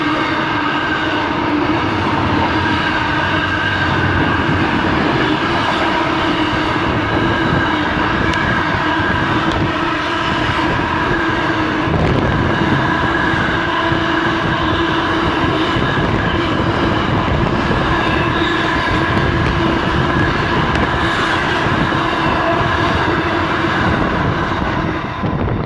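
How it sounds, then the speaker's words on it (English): A long coal train rumbles past nearby in the Hunter Valley, a steady loud roar of wagons rolling on rails throughout. "End of coal train."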